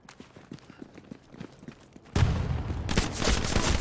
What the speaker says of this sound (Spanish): Y justo me disparan por detrás.